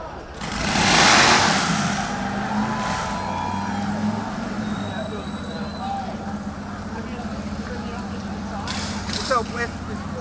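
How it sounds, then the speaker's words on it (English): Custom motorcycles at a sponsor bike event are cranked and revved together, a loud engine surge early that settles into a steady rumble, with people talking over it. "How many of you guys want to hear them crank these bikes?"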